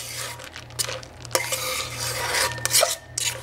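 Chocolate chips are stirred into cake batter made from a boxed mix, producing close, wet scraping and rubbing strokes with occasional utensil clicks against the bowl, in a quick irregular rhythm, with no talking.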